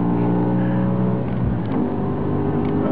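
A 507-horsepower car on the Nürburgring track: a steady, loud engine drone with a slight shift in pitch partway through, heard alone without voices.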